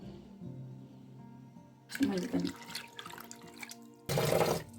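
Lima beans are rinsed in a bowl of water, with splashing and sloshing in two short bursts between quieter stretches.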